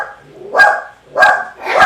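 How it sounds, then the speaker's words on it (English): Dogs bark at someone outside, three loud close barks spaced about half a second apart, sharp and worked up. "It's our dogs."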